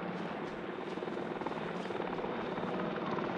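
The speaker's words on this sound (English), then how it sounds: "these guys, who probably aren't even Vietnamese, are very alarmed by the approach of stock footage helicopters." Helicopters approach in a film scene, their dense rotor and engine roar steady and fairly loud throughout, with no voices.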